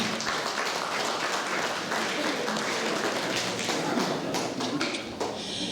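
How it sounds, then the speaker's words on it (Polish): At a charity ball in Zalasowa, the audience claps steadily in a dense, close patter of many hands, continuous and fairly loud throughout with small fluctuations. "Brawa."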